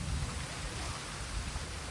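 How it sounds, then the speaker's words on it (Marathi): Rain falls steadily in a village on a Lakshmi Puja afternoon, a soft, even hiss with low rumbling underneath and no voices. "हा बघा पाऊस आला फायनली."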